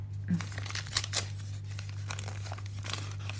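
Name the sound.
unwrapping a package of cards sealed with paper tape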